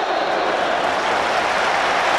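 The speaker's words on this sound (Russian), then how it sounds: "Аплодисменты Ибрагимовичу" A stadium crowd at a Euro 2004 football match between Sweden and Bulgaria applauds Ibrahimović, a loud, dense and steady wash of clapping and crowd noise filling the whole moment without a break.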